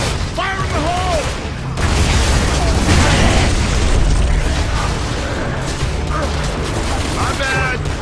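Grenade blast in Gears of War: Judgment during a fight with the Locust, a heavy boom swelling into a sustained rumble amid combat noise, with voices calling out before and during it.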